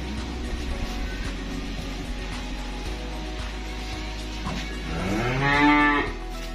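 Cattle at a calf trader's farm in Kediri, East Java, moo several times over a steady low background hum, the last call loudest and longest, rising and drawn out near the end.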